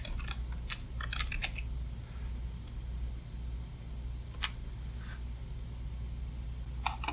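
Fingers type a folder name on a computer keyboard, a short burst of close, crisp key clicks followed by sparse single taps over a low steady hum.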